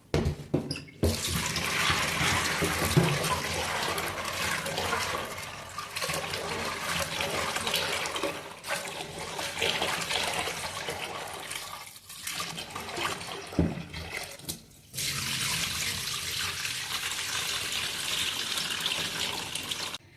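Tap water runs steadily and splashes into a container while chickpeas are washed, stopping briefly a couple of times before flowing again.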